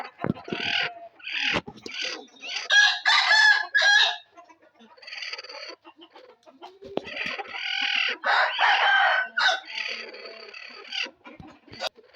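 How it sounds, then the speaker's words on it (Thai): A first-time brooding hen guarding her eggs gives drawn-out, agitated clucks and throaty growling calls up close, in repeated bursts with short pauses between. "อันนี้ก็คือเสียงแม่ไก่ที่ห่วงไข่นะคะ"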